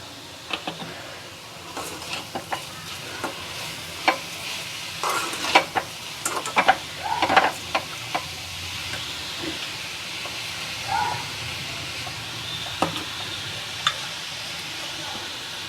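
Carrot halwa with sugar being stirred in a pan, soft scraping strokes and dull clacks of a spoon repeating irregularly over a low simmering hiss, nearby and moderately loud, with a busier flurry of stirring midway.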